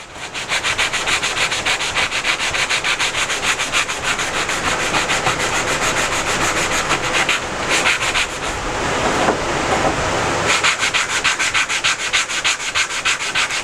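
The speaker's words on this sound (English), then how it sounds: "here we're sanding our pieces, getting all of the rough edges off." Wooden pieces for a small watch display holder are sanded by hand in rapid, steady back-and-forth rasping strokes. The sound is close and continuous, with a brief change of pace midway.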